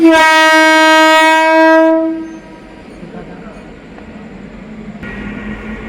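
A suburban train near Sodepur sounds a loud, sustained horn for about two seconds, then rumbles and clatters past on the rails.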